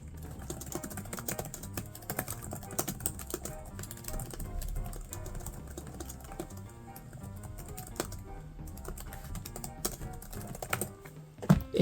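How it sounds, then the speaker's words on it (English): Typing on a Lenovo ThinkPad X395 laptop keyboard with UK layout, a steady run of close, soft key clicks and taps with short irregular pauses, heard alone without talking. "here is your keyboard typing test"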